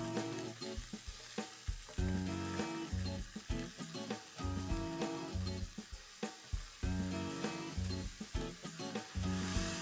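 Sliced onions fry in a pan with a spoonful of salt, sizzling continuously while a utensil stirs and scrapes in repeated bursts, close up and with no talking.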